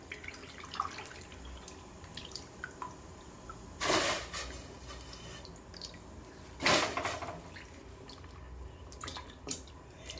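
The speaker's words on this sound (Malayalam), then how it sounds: "ഇനി അത് ഈ തിളച്ച വെള്ളത്തിലേക്ക് ഇടട്ടെ" Pieces of cassava drop into boiling water with two distinct splashes several seconds apart, over a quiet bubbling, dripping background.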